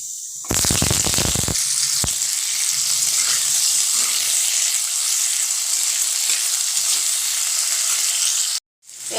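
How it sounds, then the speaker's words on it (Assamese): Cauliflower pieces drop into hot salted oil in a wok for a mixed vegetable curry, setting off a loud crackling burst that settles into a steady, close, hissing sizzle. "এতিয়া মই প্ৰথমতে ফুলকবিখিনি ভাজি ল'ম"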